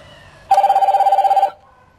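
A single burst of electronic phone ringing plays through a car's Bluetooth MP3 player, a fast warbling trill lasting about a second, close and clear.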